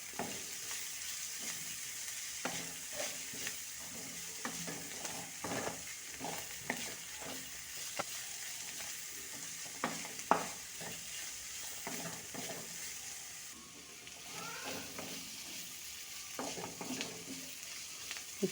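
Green beans with turmeric and salt are stirred in a pan, a soft steady sizzle broken by repeated spoon scrapes and taps against the metal, fairly quiet and close, with no voices.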